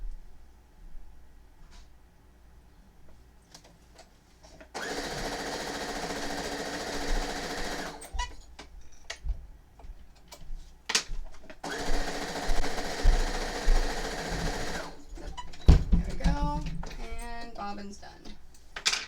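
A sewing machine winds a bobbin in two sustained, steady whirring runs, close and fairly loud, separated by quieter handling clicks and taps, with some talking in between.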